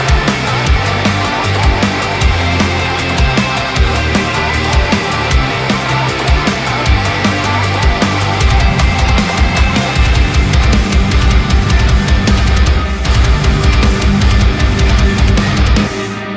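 Heavy rock or metal electric guitars in a finished mix, dense distorted chugging riffs with driving low-end rhythm, loud and continuous throughout with no talking.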